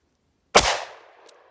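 A single sharp, close gunshot from a .38 Special revolver loaded with Cor-Bon 125 grain +P ammunition, fired at a ballistic gel target. It has a loud crack and a fading tail, then a faint click.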